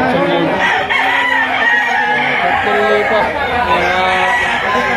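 Stag roosters at a chicken auction market in Lipa, many birds crowing and clucking loudly and continuously, with people chattering among them.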